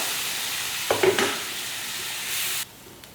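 Steady sizzling and bubbling from a pot of anchovy fish curry with mango boiling, with a clink of a utensil stirring near the start, then the hiss drops off.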